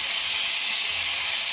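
Pork dropped into a hot pan with onions for adobo, giving a steady, loud broadband sizzle and hiss that runs unbroken throughout with no talking.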